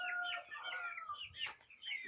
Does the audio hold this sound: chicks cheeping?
yes